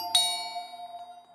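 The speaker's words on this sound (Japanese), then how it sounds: "でも、呼び鈴は鳴りました。真夜中2時に。" A doorbell gives a single clear chime at the start, whose bright tone rings on and slowly fades over a quiet background.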